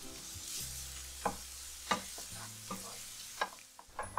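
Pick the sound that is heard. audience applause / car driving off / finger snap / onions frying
onions frying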